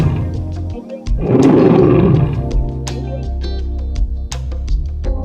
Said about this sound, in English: This big cat is called the king of the jungle. He has a loud roar.